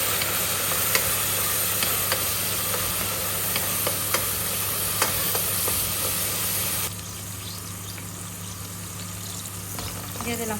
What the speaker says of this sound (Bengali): তেলে একটু ভাজা ভাজা করতে হবে না শুটকিগুলো।